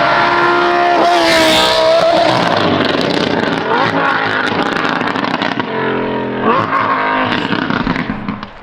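A Lamborghini with a newly fitted F1-style exhaust revs loud and close, its engine note rising and falling through several throttle blips over a steady rumbling idle, with no talking.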